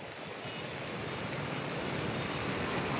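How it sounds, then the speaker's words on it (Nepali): Steady, dense roar of torrential rain with a rushing undertone from a swollen, rising river, loud and unbroken throughout. "पानी त्यस्तै मुसलधारे परिरहेको छ"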